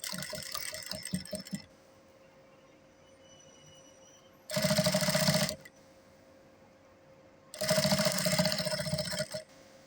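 A sewing machine stitches down the boning on a child's ball dress, running in short rapid bursts at the start, then two longer, louder runs separated by quiet pauses.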